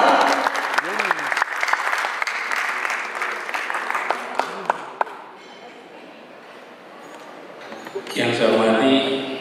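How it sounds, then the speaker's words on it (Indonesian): Audience applause at The Great Indonesian CEO Award 2023 ceremony, a sustained crowd clapping over voices for several seconds, thinning out in the middle before a fresh, louder burst of applause near the end. "Sekali lagi berikan tepuk tangan yang meriah."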